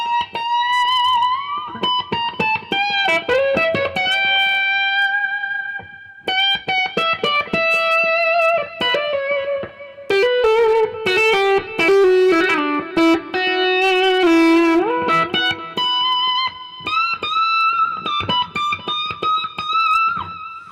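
Sustained electric guitar notes ring out through a delay effect whose repeating echoes smear into a wash of reverb, played continuously with bends and sliding pitches.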